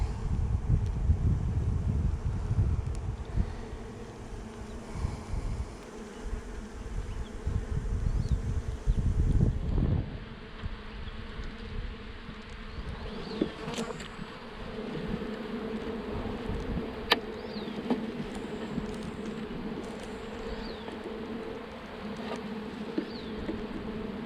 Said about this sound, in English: Look at how calm these bees are